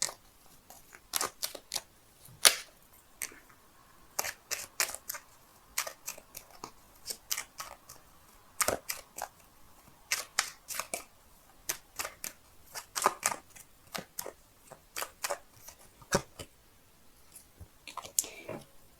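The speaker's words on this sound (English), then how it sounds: "so give me a sec while I shuffle." Tarot cards being shuffled by hand, a run of crisp riffling snaps and soft slaps in irregular bursts, close and fairly quiet, with no talking.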